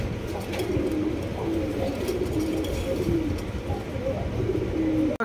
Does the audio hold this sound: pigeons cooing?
yes